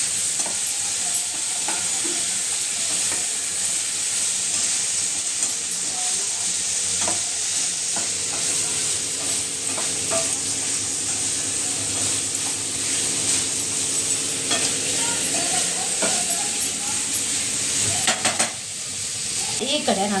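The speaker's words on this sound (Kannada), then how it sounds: "ಟೊಮೊಟೊ ಮೆತ್ತಗಾಗೋವರೆಗೂ ಚೆನ್ನಾಗಿ ಇದನ್ನು ಫ್ರೈ ಮಾಡ್ಕೊಳ್ಬೇಕು" Tomatoes with green and dried chillies fry in a pan as a steady broadband sizzle for the full length, with occasional stirring scrapes and faint clinks near the end and no talk.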